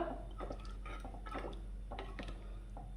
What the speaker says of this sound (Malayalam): കുറച്ച് ഇളമ്പക്കര വെള്ളം ഞാൻ എടുത്ത് വെച്ചിട്ടുണ്ട് അത് നമുക്ക് ഇതിലേക്കൊന്ന് ഒഴിച്ചു കൊടുക്കാം